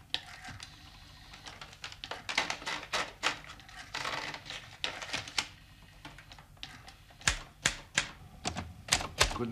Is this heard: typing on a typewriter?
yes